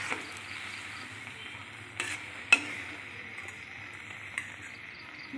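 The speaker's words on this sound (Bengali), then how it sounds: "এটা নাড়তে থাকি সমানে, যাতে রসটা একদম শুকিয়ে আসে, লেগে না যায়" A thick mango and raisin mixture is stirred in a pan as it cooks down, a soft low sizzle underneath with a few distinct scraping strokes of the spoon spaced apart.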